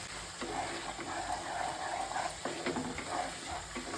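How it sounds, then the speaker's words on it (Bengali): Soft, steady sizzle of a mustard and poppy seed paste with salt and chili powder frying lightly in a pan, with faint stirring scrapes, fairly quiet and without talk. "আমি সর্ষে পোস্তটা বেশি ভাজবো না, অল্প করে ভাজবো"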